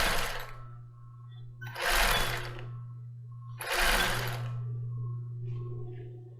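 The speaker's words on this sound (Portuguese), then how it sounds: "Só que costurando do outro lado." A sewing machine stitching a lace bra runs in two short, loud whirring bursts about two seconds apart over a steady low motor hum, heard up close.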